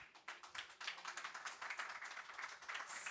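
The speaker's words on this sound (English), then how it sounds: "So please give her a round of applause." Audience applause at a COP28 agriculture café session in the Americas pavilion, a dense steady patter of many hands clapping for about three seconds, moderately distant and without speech.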